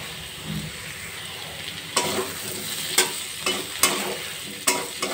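Potato and sweet pumpkin pieces fry over a high gas flame, a steady sizzle punctuated by sharp spatula scrapes and tosses about once a second, close and moderately loud, no voices.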